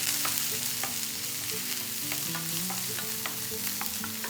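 Curry leaves and small onions sauté in a pan with a steady, close sizzle, while a utensil scrapes and stirs in light, irregular clicks. No one speaks.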